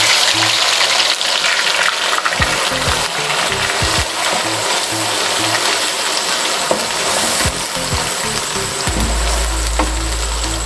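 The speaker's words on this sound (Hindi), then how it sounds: "ऑयल गर्म होने के बाद इसमें प्याज और मिर्चों का पेस्ट डाल देंगे।" Onion and green chili paste frying in hot oil for an egg malai masala, a loud continuous sizzle with scraping and clattering as the paste is added and stirred, ending in a heavier low rumble.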